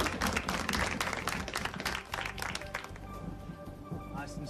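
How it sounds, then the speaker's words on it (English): A magic show audience claps for a magician in steady, fairly full applause that holds throughout and gradually thins toward the end, heard at a moderate distance. "Let's give him a big round of applause, ladies and gentlemen."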